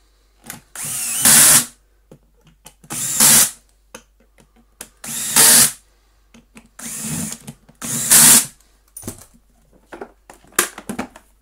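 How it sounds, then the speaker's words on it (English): Screws are driven back in on a Numatic Henry HVR160 vacuum motor housing with a power driver, sounding as four loud, close bursts of whirring, each about half a second long, separated by short clicks and pauses. "stick it back in the bucket, and do up the screws"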